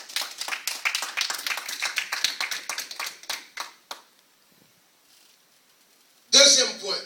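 Church congregation clapping together to acclaim the Lord during an evangelical sermon: several seconds of fairly rapid, rhythmic claps that trail off into near silence, followed by a brief loud burst of voices.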